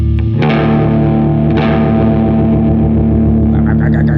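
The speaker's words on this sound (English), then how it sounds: "We make it slightly out of tune." Sustained, slightly out-of-tune notes ring together with a wavering, chorus-like beating, loud and close, decaying slowly.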